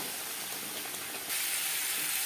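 Potatoes frying lightly in oil with salt and turmeric, among spices cooked for a thin katla fish curry, give a steady soft sizzle that swells brighter and louder partway through, with no talking.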